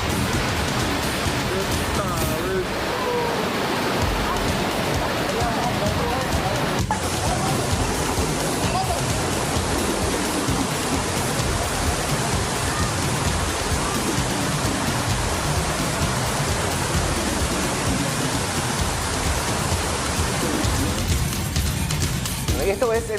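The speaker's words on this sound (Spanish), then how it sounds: "la intensidad de la lluvia, terrible por cierto" Heavy rain pours down in downtown Ciudad del Este, a dense, steady roar of water hitting surfaces that stays loud and unbroken throughout.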